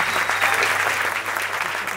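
Audience applause at a Marathi comedy show, a dense burst of clapping from a crowd held at a steady level throughout, with some voices mixed in.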